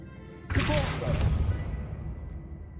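A Depulso spell cast in the Hogwarts Legacy video game: a sudden loud whooshing burst with a magical shimmer, then a sustained rumbling roll that fades out slowly, with no one speaking over it.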